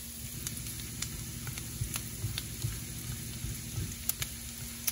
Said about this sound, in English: we're definitely going to have these onions cooking during that process